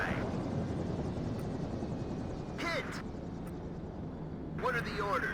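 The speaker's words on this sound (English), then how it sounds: "I need my Chinooks to resupply the helicopter." Chinook helicopters in the war strategy game WARNO, a steady rotor drone running throughout behind radio-style voice chatter that cuts in twice.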